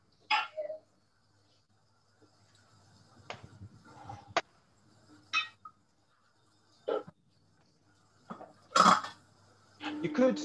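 Pots being washed in a kitchen, with scattered metallic clanks, scrapes and knocks of pans and utensils spaced by short quiet gaps, close and fairly loud. A faint voice shows up briefly.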